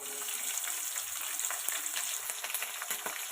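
Sliced onion, slit green chillies and a grated vegetable fry in hot oil for a fish curry, giving a steady, close hiss and sizzle with faint stirring scrapes throughout and no talking.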